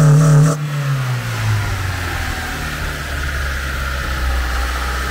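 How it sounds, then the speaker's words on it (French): A Honda Civic EJ1 engine with cheap aftermarket tuning parts cranks and catches after a short harmonic whine, then settles into a loud, steady, slightly high idle with a rough broadband rumble close by. "Donc, on démarre. Donc le ralenti est un peu haut, effectivement"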